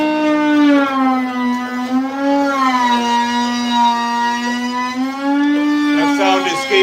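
Skateboard decks being cut out in a workshop, giving a loud, steady, high-pitched machine whine that holds a near-constant pitch for the whole stretch with slight wavering, close by and continuous.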